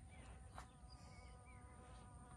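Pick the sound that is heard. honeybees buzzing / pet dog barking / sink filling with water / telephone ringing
honeybees buzzing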